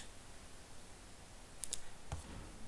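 A computer mouse clicks two or three times, faint crisp taps in an otherwise quiet room.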